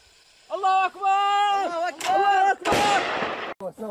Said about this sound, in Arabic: لواء الشهيد احمد السوق التابع لفرقه طهران نوى يقوم بتجهيز مدفع ميدان عيار 122